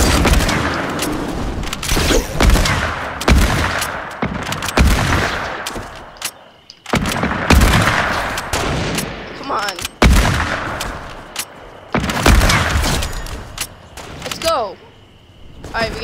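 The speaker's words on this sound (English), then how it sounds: "I can shoot from like 100 yards." Repeated gunfire in Fortnite, sharp shots in bursts and volleys across the whole stretch, with brief pauses and someone talking over the action.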